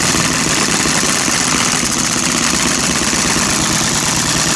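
A miniature hit and miss engine runs close by with a loud, steady chugging rumble and rapid mechanical pulsing throughout.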